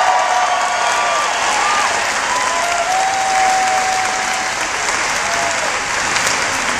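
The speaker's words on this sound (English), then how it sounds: "let's give these guys a big round of applause" A large rally crowd in Sarasota, Florida applauds veterans with loud, sustained clapping and some cheering, a dense, continuous wall of sound that fills the whole stretch.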